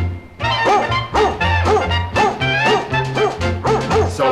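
Musical dog barks and yips in a recorded children's song about a German Shepherd, a rhythmic series of short pitched woofs over a bouncing bass line, fairly loud and close.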